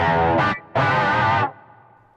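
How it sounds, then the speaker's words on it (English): Electric guitar through the vintage chorus effect of a Zoom GFX 707 multi-effects unit, two loud shimmering strummed chords, the second held longer and fading into a quiet tail. "And then there is this vintage chorus."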